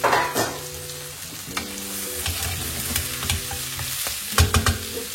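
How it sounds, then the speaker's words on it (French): Peppers, onions and prawns sizzle steadily in a hot pan while being stirred, with a continuous close frying hiss and a few clattering knocks of the utensil near the end. "Donc ici on va faire poêler les poivrons et les oignons"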